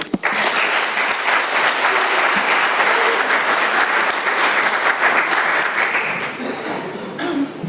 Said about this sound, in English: Everyone please give a round of applause to Lori D.